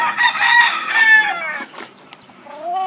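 Chickens at a poultry breeding area in San Esteban, Ilocos Sur, a loud nearby rooster crow followed by a brief pause and then clucking, with no talk over it.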